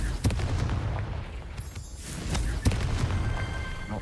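Confringo blasting spell detonating in the Hogwarts Legacy video game on PS5, giving loud sharp booming bursts, two strong impacts among a dense rumbling game soundscape.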